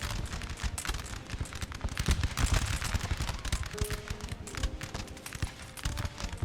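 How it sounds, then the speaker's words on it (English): Musket volleys and cannon fire in a Napoleonic battle in Napoleon: Total War, a rapid crackle of overlapping gunshots and dull booms, fairly distant and continuous, with no talking. "The skirmish company is firing with the grenadiers"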